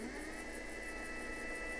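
Lathe turning at about 500 to 600 RPM while a boring bar takes a gentle cutting pass toward a bore just under 2 inches, giving a steady continuous machine hum with a faint high whine and no pauses.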